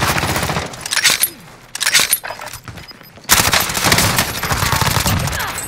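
Rapid gunfire rattles in the video game Call of Duty Warzone, loud bursts breaking off into a short lull and then resuming as dense sustained shooting.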